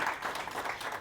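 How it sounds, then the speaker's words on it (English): Audience applause at a book launch, a dense steady patter of clapping filling the second at moderate level with no voices over it. "Can we have a round of applause, please?"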